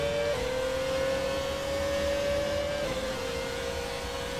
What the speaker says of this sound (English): What's that V10 there?